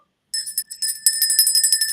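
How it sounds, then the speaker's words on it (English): A bell rings during a relationship-counseling talk, struck in several quick bright bursts after a short silence, and keeps ringing repeatedly and loudly to the end. "Anytime I say counseling, we're gonna ring that bell."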